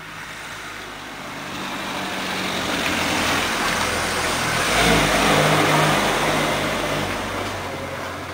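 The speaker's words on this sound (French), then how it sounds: "Il y a une voiture qui va passer," A large car drives past outdoors: a broad engine and tyre rush swells gradually, peaks loudly about midway, then fades as it moves away.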